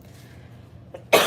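A faint throat noise is followed by one sharp, close cough at the end, after near silence.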